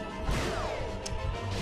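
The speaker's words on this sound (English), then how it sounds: "Oh, wow, he smashed the platform." Bowser smashing a platform in the Mario Galaxy video game gives a loud, close crash with a whooshing sweep, set against a continuous game soundtrack.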